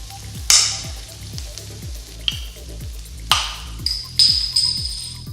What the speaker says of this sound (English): When you're sauteing, that means you wanna have it on high heat